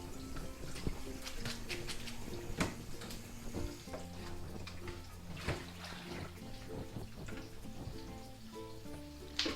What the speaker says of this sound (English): I'm also going to wash it down with cold water, just so it doesn't stick together